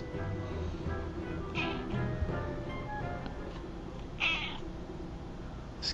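A cat meows several times in the Kingdom Hearts video game, short separate calls spaced a couple of seconds apart over a low, steady game background, with no talking.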